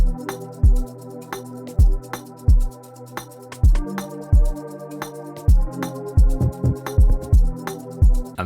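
A house music track plays with drums added. Punchy kick drums with pitch-dropping thumps land in an irregular, syncopated pattern over a sustained synth chord pad, loud and upfront, with no talking.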